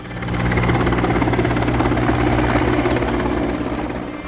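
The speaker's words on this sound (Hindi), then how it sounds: "दिल्ली के सरगंगाराम अस्पताल में वायुसेना के विमान फूल बरसा रहे थे" Indian Air Force aircraft flying over Sir Ganga Ram Hospital in Delhi to shower flowers, a loud, steady rotor-and-engine roar that fades in, holds constant and eases off slightly at the end.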